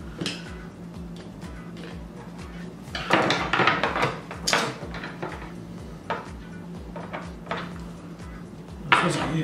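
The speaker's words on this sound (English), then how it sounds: "Just a knife to kind of poke it through." A knife is poked through a drilled hole in a Pit Barrel cooker, producing a series of close metallic clinks, scrapes and knocks of varying strength over a low background hum.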